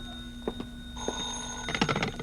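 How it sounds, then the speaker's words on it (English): An old telephone bell rings in a radio drama, a bright sustained ring followed by short clunks and a second burst of ringing, close and clear with no voices. "was about to take off when the phone rang again"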